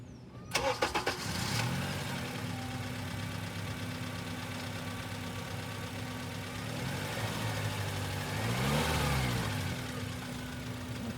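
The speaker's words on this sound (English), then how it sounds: "So I'm gonna start the scope and start the car and take a normal capture." Car engine cranking and catching, then settling into a steady idle that runs for about ten seconds, with a slight rise in revs near the end; moderately loud, with no talking.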